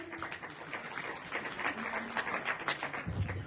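Audience applause after a village Ganesh festival play staged by a local mandal in Mhalsapur, a steady wash of many hands clapping at moderate distance, continuous and dense throughout.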